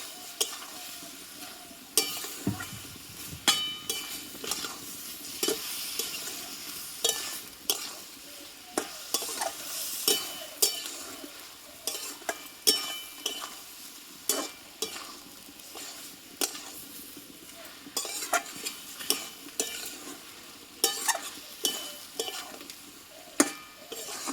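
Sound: sautéing cashew and poppy seed paste in pan

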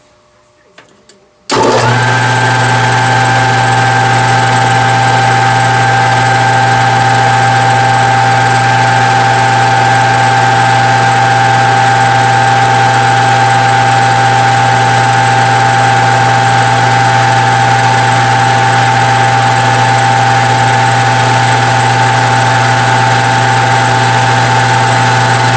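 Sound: machine running at 1255 RPM while modifying a bushing

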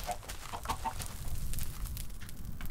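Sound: chickens clucking in a video game

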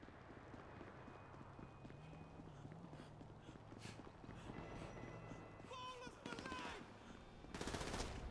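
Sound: gunfire in video game GTA V Chaos Mod

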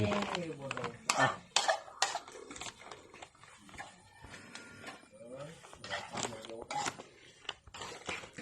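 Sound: stirring canned fish stir-fry in a pan

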